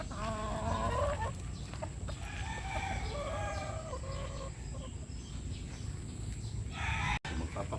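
Bulik stag roosters clucking and calling in a cord area, with several overlapping near and mid-distance clucks and short crow-like calls continuing throughout.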